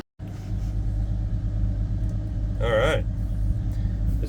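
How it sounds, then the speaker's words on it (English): A 1984 Dodge RAM D100 truck on worn-out junk tires driving slowly, with a steady low engine rumble throughout and a brief squealing tone partway through. "I'm just going to drive right here because these tires, they're junk."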